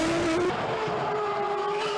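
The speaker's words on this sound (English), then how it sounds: "with a scream of the BMW engine in his Williams Formula One car" Screaming BMW engine of a Williams FW24 Formula One car at a Stuttgart demonstration run, a steady high-pitched wail that drops in pitch after a moment and carries on loud and continuous with no voices.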